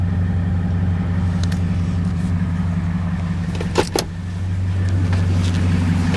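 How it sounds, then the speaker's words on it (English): A warm 2012 Ram 1500 Laramie Longhorn with a 5.7 L HEMI V8 idles with the hood open, giving a steady, close, low rumbling hum. A couple of brief clicks sound midway. "Truck is quieting down a little bit now."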